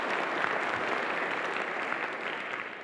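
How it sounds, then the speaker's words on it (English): An audience claps steadily to welcome keynote panelists onto a conference stage, a continuous full round of applause that fades slightly toward the end. "A round of applause."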